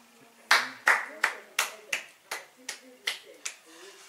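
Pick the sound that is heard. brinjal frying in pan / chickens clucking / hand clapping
hand clapping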